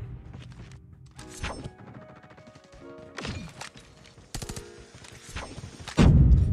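Submachine gun fire from Call of Duty Mobile comes in several sharp, rapid bursts with crashing impacts between them. The final burst is loud and close.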